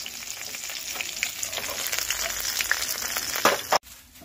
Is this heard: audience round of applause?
no